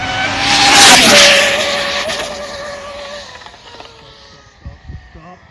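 A remote-control car skids and squirms over loose gravel at night, a loud whining, scrabbling rush peaking early then fading, with a few sharp bursts of crunching near the end.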